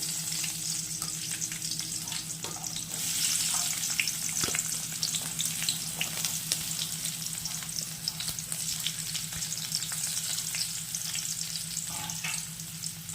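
Ginger, garlic, green chilli and onion fry in hot oil in a pan for a mushroom paneer dry starter, giving a steady close sizzle with occasional stirring scrapes.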